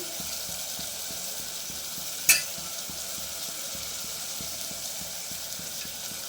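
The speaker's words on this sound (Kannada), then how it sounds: "ಟೊಮೆಟೊನ ಬೇಗ ಫ್ರೈ ಆಗುತ್ತೆ" Chopped tomatoes with salt fry in a pan for a Kannada pepper rasam, giving a steady, even sizzle throughout with one brief sharp clink partway through and no voices.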